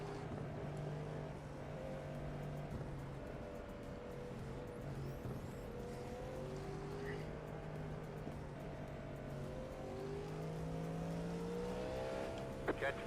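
A prototype race car engine in the iRacing game at Road Atlanta drones steadily, pitch rising and falling through shifts, heard as a continuous mid-level hum for the whole stretch.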